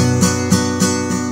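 Minor chord strummed on guitar with the middle finger, four even strums ringing out close and clear with no voice over them.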